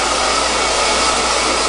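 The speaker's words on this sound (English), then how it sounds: "let the blow dryer do the work, removing the moisture and giving you the lift" A blow dryer roars steadily at close range as it dries hair, a loud, constant airy whoosh with an even motor hum and no talk.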